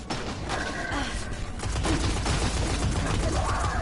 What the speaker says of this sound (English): if you can't tell, it's a shotgun